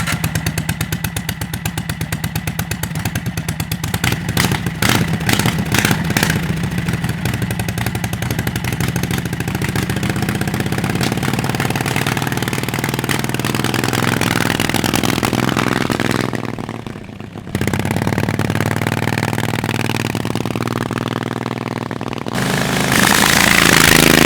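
A 670cc automatic chopper motorcycle rides along a road at speed, its engine droning loud and continuous with a brief dip partway through before pulling hard again, no talking.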